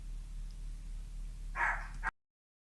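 A dog barks indoors, giving a short close burst of one or two barks near the end over a steady low hum before the sound cuts off.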